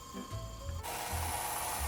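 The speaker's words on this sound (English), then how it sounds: "a little bit of sanding on the sanding belt" A wooden shingle is pressed against a running sanding belt, giving a faint, continuous abrasive rubbing and grinding that begins after a short, quieter lead-in and then holds steady.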